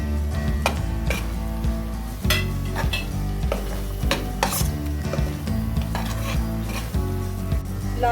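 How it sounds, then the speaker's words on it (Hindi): Chicken is stir-fried with cumin, coriander and garam masala powders in a pan for Mughlai chicken, with continuous loud sizzling and frequent scraping, clattering spoon strokes against the pan, close by. "इसको 2 से 3 मिनट के लिए अच्छे से भून लेंगे।"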